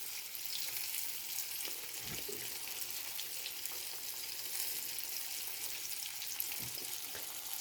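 Chicken legs fry in a pan, giving a soft, steady sizzle with occasional faint clicks and stirring sounds, low and continuous, with no one speaking.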